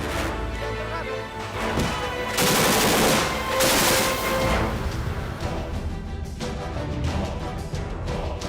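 Rapid military gunfire from an air defense artillery battalion firing exercise, loud sustained bursts of automatic shots echoing outdoors, rising and falling in intensity across the stretch.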